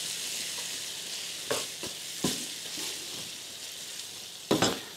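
Onion browns in a pan with a low, even sizzle, and several sharp utensil knocks and scrapes stand out, the loudest near the end. No one speaks.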